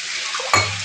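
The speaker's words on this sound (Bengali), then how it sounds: "তাহলে এই 2 মিনিটের মতন ভেজে নেব।" Something fries in a pan at a steady broadband sizzle, with a brief stirring clatter about midway and a low hum continuing after it, with no voices.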